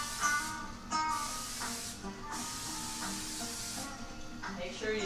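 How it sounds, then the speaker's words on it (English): Steady hissing cooking-spray bursts into a 9x5 loaf pan, a few short pulses close by, layered over a busy background with some talking. "Make sure you spray that bottom because it does get a little heavy."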